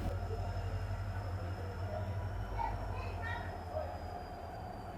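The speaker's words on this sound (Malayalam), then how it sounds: "എനിക്ക് തിരിച്ചു പോകാനുള്ള പൂർണ്ണ എക്സ്പ്രസ് എത്തിക്കഴിഞ്ഞു." The Purna Express pulls into a small railway station in Goa, producing a low, steady rumble with a faint, thin wheel squeal above it while a voice talks over the train.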